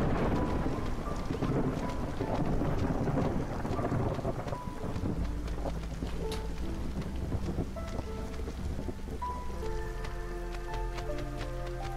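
Storm ambience in the city-building game Against the Storm, steady rain hiss with low rolling thunder rumbling throughout, later joined by soft tonal game music, with no talking.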